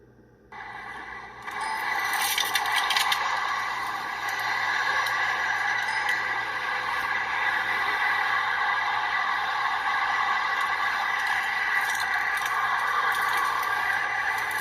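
Steady, hissing roar of traffic on a nearby throughway that starts abruptly and then holds at an even level, with faint scrapes and clicks on top.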